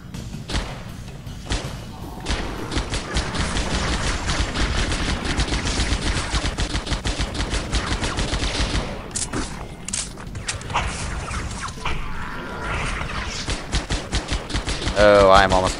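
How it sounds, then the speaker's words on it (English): Halo SPV3 gunfight with dense rapid weapon fire, including fuel rod guns, as bursts, thumps and explosions pile up in a constant loud barrage, under occasional shouting. "Why do I hear fuel rods?"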